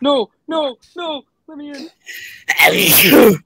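One loud, close sneeze bursts out right after a voice shouts a few short words during an online video game session with friends.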